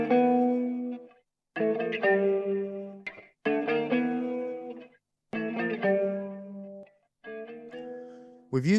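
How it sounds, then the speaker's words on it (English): A clean electric guitar plays a riff in two-part harmony with a touch of amplifier reverb, sustained chords broken into phrases by short silences, with notes ringing out and decaying. "The first guitar is a clean riff played in 2-part harmony with a touch of amplifier reverb."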